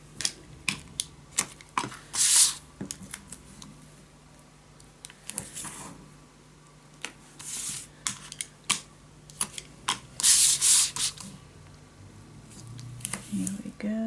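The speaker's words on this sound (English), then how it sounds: "I'm gonna add tape as close as I can get to the edges" Adhesive tape is pulled and pressed along the edges of a paper pop-up album, heard as scattered crackling strips and taps in irregular bursts, close and intermittent.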